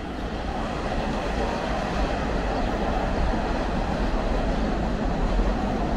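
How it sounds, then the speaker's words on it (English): Continuous heavy rumble of B and Q subway trains running on elevated tracks in the Fiske Terrace area of Brooklyn, a loud, steady roar with no clear start or stop. "the reassuring sound 24 hours a day of the B and the Q trains"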